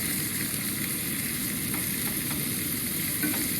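Extra thick cut bacon frying in a pan at a campsite in the Canadian boreal forest, giving a steady, close, continuous sizzle and crackle with a few faint clicks, no talking.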